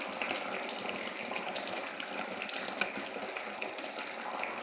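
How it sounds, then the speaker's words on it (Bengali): Pabda fish steaming in a covered pan with onion and garlic, a steady low bubbling and simmering hiss that continues evenly throughout, close and moderately loud with no voices. "দেখো বন্ধুরা, মাছটা টকবক করে ফুটছে, তোমাদের দেখাচ্ছি।"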